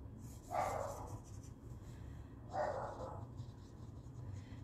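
Two short dog barks ring out a couple of seconds apart, faint and somewhat distant over a quiet background.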